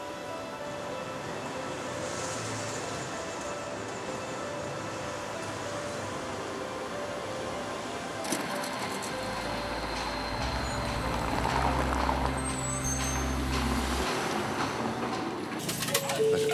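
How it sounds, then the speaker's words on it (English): Nankai Tramway tram running, a steady low rumble with a constant whine and hum throughout, rising slightly in the second half with clattering and a few bell-like tones near the end. "Experience the past and present riding old and new train cars on the Nankai Tramway"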